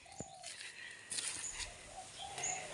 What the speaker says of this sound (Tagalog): So parang sa tingin ko ito ata yung ibon na nagsasalita.